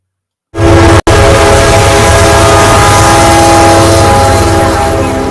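Train noise with a long sustained horn blast from a video game trailer featuring trains in North Alabama, starting abruptly after silence, with a brief cut, then loud and steady to the end.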